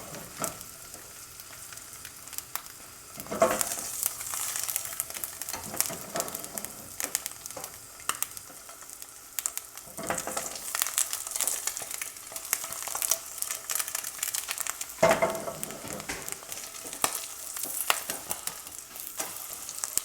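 An egg fries in a Starfrit The Rock Diamond Edition nonstick pan over medium heat, giving a steady close crackling sizzle with a few louder scraping bursts from a utensil.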